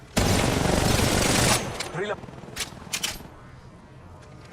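Gunfire in a mobile shooter game played on a Poco X3 Pro: a loud, dense burst of rapid shots lasting over a second, followed by scattered fainter shots and game effects.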